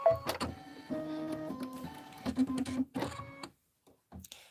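An embroidery machine sews a placement stitch for quilt batting, a rapid mechanical whirring with tonal hum that runs in bursts, pauses briefly and starts again.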